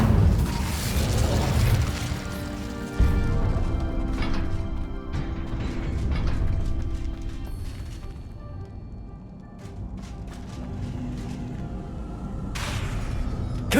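Spell blasts from Hogwarts Legacy combat, including the Incendio fire spell, in a dense run of booming bursts and crashing impacts over a rumbling low roar, loud and busy throughout with a fresh burst near the end.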